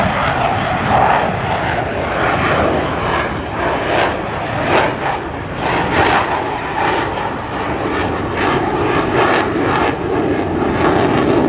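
An F/A-18 Hornet jet taking off at the Dayton airshow and rolling on climb-out: a loud, continuous engine roar with crackling, rumbling surges, heard close and without a break.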